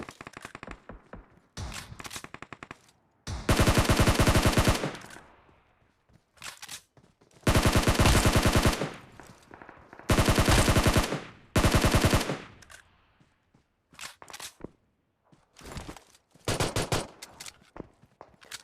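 Automatic weapons fire in a shooter video game battle, with loud, close bursts of rapid gunfire repeating between gaps, plus scattered single shots and quieter distant rattles.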